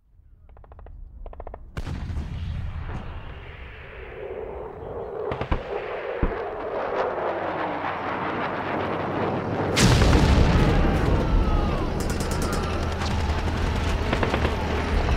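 Wartime battle sounds from a Twilight Zone episode: heavy booming explosions and cracking artillery fire, loud and close, building into a dense continuous roar of blasts with sharp bursts at intervals.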